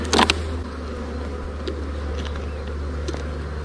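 Honeybees buzz softly around an opened beehive during a hive inspection, a low steady hum with a few brief louder handling knocks at the start and no talk.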